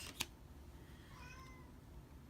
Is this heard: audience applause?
no